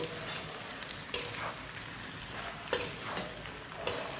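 Macaroni pasta with beef is stirred in a pan under a steady frying sizzle, with a few sharp utensil scrapes and knocks spaced apart, close and moderately loud, with no voices.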